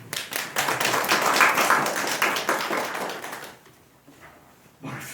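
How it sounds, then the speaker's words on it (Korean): Applause for a church deacon: a congregation claps steadily for about three and a half seconds, then the clapping thins and fades, with a brief renewed burst near the end. "격려의 박수 보내주십시오"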